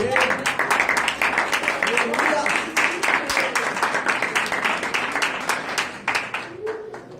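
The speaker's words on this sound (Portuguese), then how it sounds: "Quem crê pode aplaudir ao Senhor." Church congregation applauds in a sustained, dense round of clapping that fades slightly toward the end, with voices calling out over it.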